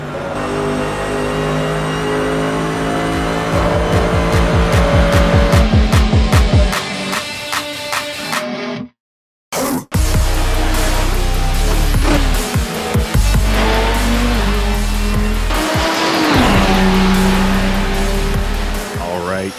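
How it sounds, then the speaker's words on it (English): ProTech P91 race car from Race Sim Studio in a sim racing game: loud, high-revving engine climbing through gear changes, a brief silent cut, then more hard acceleration with growling downshifts and tire noise, talk mixed in. "this is the ProTech P91 from Race Sim Studio, an absolute gem"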